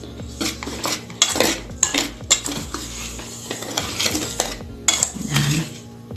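Ube puto batter mixed in a bowl with a utensil, irregular clinking and scraping against the bowl's sides, close and busy, with some soft sticky patter in between.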